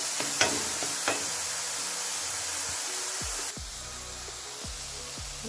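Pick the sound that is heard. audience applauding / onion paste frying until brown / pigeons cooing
onion paste frying until brown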